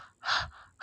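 A single sharp, breathy pant, imitated by a voice as a Jolly Phonics action sound, close and moderately loud, followed by a softer breath and the start of another.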